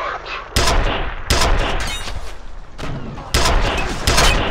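Bursts of close, loud gunfire from the shooter game F.E.A.R., three heavy volleys separated by short gaps, with the noise staying high and dense between shots.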